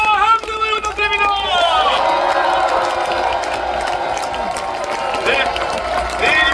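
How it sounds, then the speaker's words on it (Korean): A large outdoor crowd at Lee Jae-myung's final campaign rally in Yeouido Park cheers and claps in a sustained roar, with shouting voices rising above the continuous applause. "우리 대통령 이재명 후보에게 큰 박수와 함성을 부탁드립니다"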